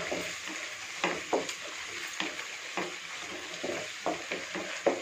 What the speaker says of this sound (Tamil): ஸோ அதை நல்லா ஃப்ரை பண்ணுங்கள்.